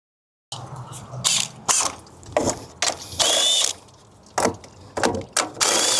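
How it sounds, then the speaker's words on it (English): A ratchet loosens valve cover bolts on a 2007–2011 Toyota Camry engine, with short bursts of rapid close clicking separated by brief pauses. "Valve cover is pretty simple. We need to remove a couple bolts."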